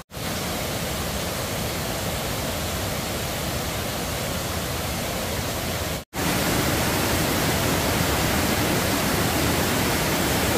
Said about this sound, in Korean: 여기는 칠연 폭포입니다.